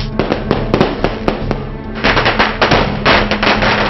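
Rapid, loud firecracker blasts crackle in dense bursts at New Year, popping irregularly and echoing outdoors without pause.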